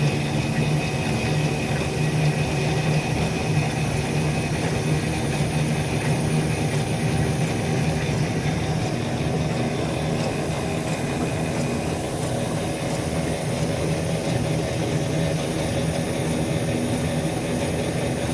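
A Bryan steam tractor runs steadily just after startup, its engine producing a continuous, even mechanical drone with a broad hiss that stays constant and fairly loud throughout, with no talk over it.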